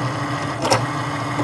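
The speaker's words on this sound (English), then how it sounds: "we can basically sit back, relax and enjoy watching how our cutting machine is doing everything for us" A Cricut cutting machine cuts material on its mat, giving a steady mechanical whir with a low motor hum and a brief, louder swish of carriage movement partway through, with no talk.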